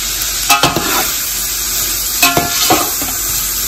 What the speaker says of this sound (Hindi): इसको 5 मिनट के लिए हमने फ्राई कर लिया